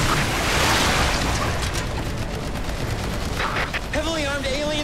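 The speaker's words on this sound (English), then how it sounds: "Our opponents are carrying firearms! Not just carrying them, they've opened fire!" Alien weapons fire in the video game Earth Defence Force 6: a dense, continuous barrage of rattling shots and blasts. A voice breaks through near the end.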